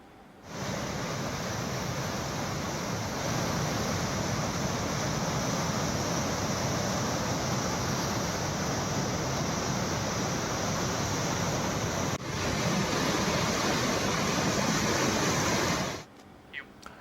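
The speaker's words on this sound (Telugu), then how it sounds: "8 గేట్లు ఎత్తి దిగువకు నీరు విడుదల చేస్తున్నారు." Floodwater released through eight open gates of the Jurala dam roars as a loud, unbroken broadband rush lasting about fifteen seconds, then cuts off abruptly.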